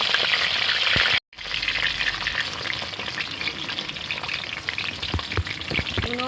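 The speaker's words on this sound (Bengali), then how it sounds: "তেল দিয়ে দিচ্ছি, কড়া গরম হয়ে গেছে। তো আলুগুলো ভেজে নেব।" Potatoes fry in very hot oil for chicken biryani, a loud, close, unbroken sizzle with popping crackles and a brief drop to near-silence early on.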